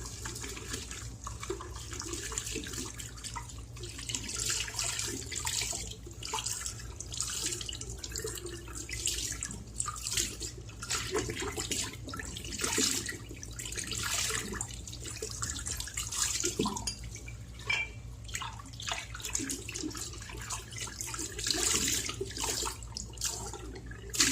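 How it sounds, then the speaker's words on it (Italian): Water runs from a tap as a shaving brush and bowl are rinsed under it, a soft continuous splashing stream with uneven bursts as the items move through the flow, heard fairly quietly. "Laviamo rapidamente pennello e ciotola."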